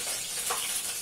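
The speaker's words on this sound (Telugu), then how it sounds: "నూనె కొంచెం కాగిన తర్వాత ఇప్పుడు పచ్చిమిరపకాయ ముక్కలు," Green chili pieces sizzling in hot oil in a kadai, a steady, close frying hiss lasting about a second with no voices.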